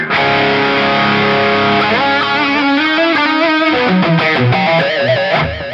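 Electric guitar through a Mooer Prime P2 multi-effects processor with a custom tone, heavy distortion, opening with a sustained chord then running into a fast melodic line; full, punchy and loud, no voices.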